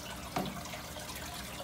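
Cup dipped into an aquarium to scoop water for acclimating Pacu fish, one short splash and pour near the start, then a faint watery trickle.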